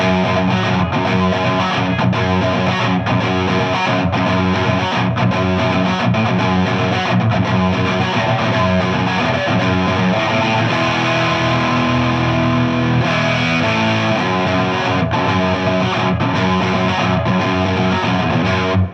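A loud, heavily distorted electric guitar plays a driving repeated octave riff, dense and continuous, with no talking.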